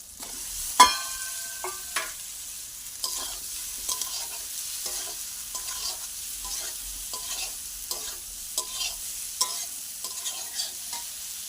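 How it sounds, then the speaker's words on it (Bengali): Fried vegetables, including cauliflower, tossed into a pan of spiced tomato masala and stirred, with a sharp clank at the start followed by repeated scraping stirs over a soft, steady sizzle, close by with no talking. "এবারে ভেজে রাখা সবজিগুলো দিয়ে দেব।"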